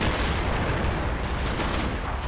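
An Elephant tank destroyer in a war game rumbles heavily, with its gun firing amid a dense, continuous low boom and the roar of battle.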